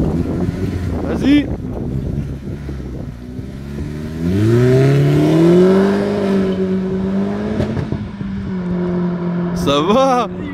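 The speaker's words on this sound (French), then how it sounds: "On va écouter le son de la petite GTC." A small Audi TT mk2 engine with S-tronic gearbox revs up and climbs in pitch, holding a steady drone before easing off, with wind noise and brief voices around it.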